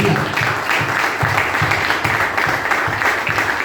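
A church congregation applauds together, a dense steady wash of many hands clapping that fills the room throughout, close and loud.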